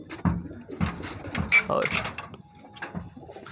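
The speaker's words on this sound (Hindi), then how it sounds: "यहाँ पर काफ़ी कबूतर भरे हुए हैं अंदर के साइड से" Many pigeons crowded together in a pigeon shop in Allahabad coo softly in low, scattered bursts beneath someone talking close by.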